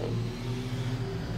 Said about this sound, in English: Sorry about that car.